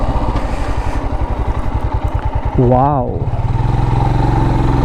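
A Himalayan Scram 411 motorcycle engine under way on a test ride, a steady, close low throb that swells briefly as a man exclaims over it.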